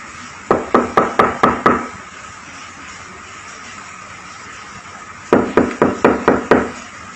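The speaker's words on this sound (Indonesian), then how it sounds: "di sini ada ketukan pintu keras banget di pintu rumah" Two loud bursts of heavy banging on a house door, about six rapid knocks each, separated by several seconds of quiet background hiss.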